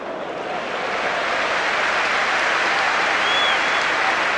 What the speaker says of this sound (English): Warmly applauded by the Birmingham fans.